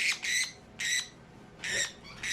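A Japanese frill canary squawks in harsh, raspy bursts while being caught, four loud close cries evenly spaced with short pauses between, with no voices.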